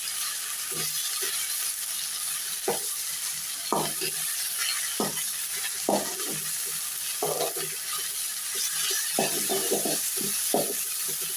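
Drumstick leaves sizzle steadily in a hot pan, with intermittent scraping and stirring knocks over the continuous frying hiss.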